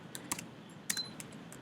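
Soft keystrokes typing code on a computer keyboard, with a few sparse clicks and two slightly louder taps, quiet and close.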